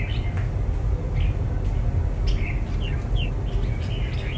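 A red-whiskered bulbul kept for singing contests gives a string of short, sharp chirps and whistled notes, fairly loud and close over a steady low rumble of background noise.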